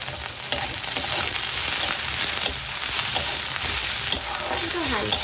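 Beans, onion and paneer frying lightly in a pan, a loud continuous sizzle with scattered clicks of stirring throughout and no speech.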